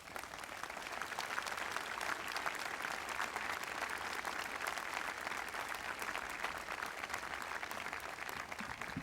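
A large audience at a 2006 Stanford graduate commencement applauds in welcome of Vartan Gregorian, a dense, steady roar of clapping that holds for the whole stretch.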